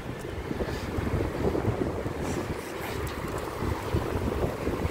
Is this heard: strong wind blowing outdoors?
yes